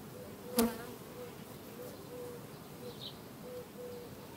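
Honey bee colony on a brood frame lifted from a hive, giving a steady, soft low drone of many bees throughout, with a single sharp tap near the start; no talking.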